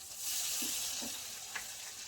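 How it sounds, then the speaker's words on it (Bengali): Tomato frying with salt for shol fish curry gives a steady, close sizzle, with a few soft stirring knocks and no voices. "টমেটোটা একটু ভেজে নেবো, মানে একটু কাঁচা গন্ধটা চলে যাওয়ার জন্য।"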